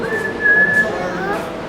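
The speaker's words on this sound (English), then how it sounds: "Can you blow the whistle?" A toy train whistle blown at a train park gives one sustained, fairly loud tone that holds steady, then slowly fades and wavers over a soft background hum.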